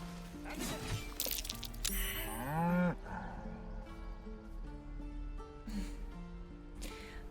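An ox moos in the video game Baldur's Gate 3, with a couple of drawn-out, sliding bellows standing out against steady game music and ambience.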